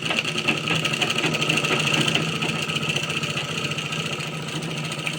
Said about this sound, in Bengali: এইভাবে আমরা সেলাই করে যাবো